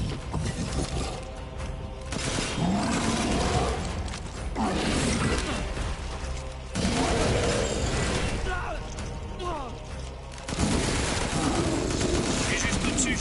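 Bursts of gunfire ring out in the video game Resident Evil Village, repeated shots and mechanical clanks over dense game noise, with a voice talking at times.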